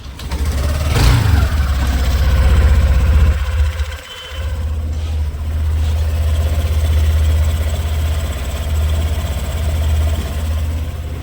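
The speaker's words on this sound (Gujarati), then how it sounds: "એકવાર તમને લોકોને જે છે આનું એન્જિન નોઇઝ જે છે એ સંભળાવી દઉં." Idling engine of a 2025 Honda Activa DLX BS6 E20 scooter, a steady low drone held close and loud throughout, with a brief dip and cough partway through.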